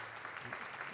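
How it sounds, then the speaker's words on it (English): Brief, soft applause from an audience at a chamber of commerce gathering in Woodland, steady and faint over about a second. "let's give her another big round of applause."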